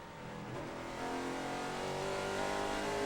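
Racing truck engines at a 2009 NASCAR Camping World Truck Series race in Memphis drone and rise in pitch as they come back onto the throttle out of the turns, a steady building roar growing louder.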